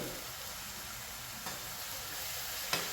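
Onions frying with salt in a pan for a home-cooked beef and tapioca meal, giving a quiet, steady sizzle with a couple of faint stirring clicks.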